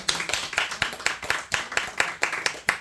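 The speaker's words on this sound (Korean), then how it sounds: "우리 사모님도 박수 한번 주세요." Congregation in a church service clapping after a trumpet piece, a loose rhythmic run of hand claps at moderate volume, fairly close, with no talking over it.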